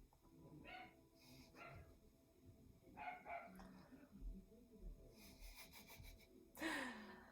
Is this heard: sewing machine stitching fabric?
no